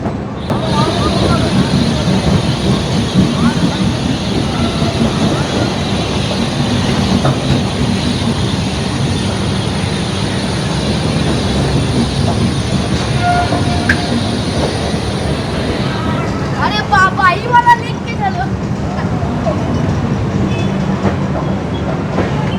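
The Shalimar–Puri Superfast Express pulls out of Santragachi station and rolls on with a loud, steady rumble, a continuous high whine, and rhythmic wheel clatter and squealing near the end.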